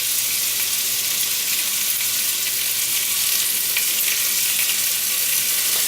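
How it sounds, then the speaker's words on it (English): Pepper bacon fries in a pan, rendering down its fat with a continuous, dense hiss and crackle of popping grease, close and steady, with no voices. "we're basically just rendering down the fat from the bacon, that nice bacony flavor, the grease"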